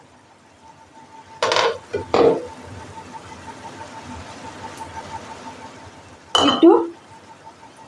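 A spoon clinks and scrapes against a pan while a banana flower curry made with milk is stirred, two short bursts near the start and another later, over quiet background with a brief spoken word.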